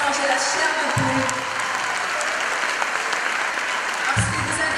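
Steady applause from an audience at a large event, dense clapping throughout with a speaking voice briefly heard over it at the start and end.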